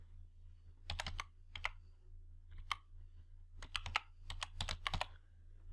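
Short bursts of close, crisp keystrokes sound as a date is typed into an Excel spreadsheet cell, separated by quiet pauses over a low steady hum.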